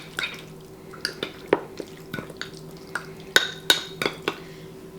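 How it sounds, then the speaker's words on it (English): Ingredients are stirred into sour cream for shrimp tacos, giving irregular close clinks and taps of a utensil against a bowl with soft wet scraping between, no voices. "I'm going to mix this together."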